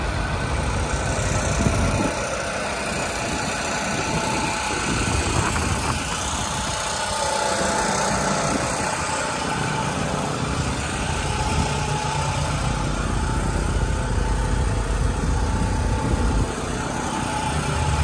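A 2008 Ford F-250 truck engine idles steadily with a constant low rumble, close and unbroken, with no voices.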